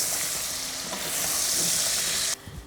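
Beef stew cooking in a pan over medium heat, a steady close sizzle and bubbling hiss that continues throughout before cutting down sharply near the end.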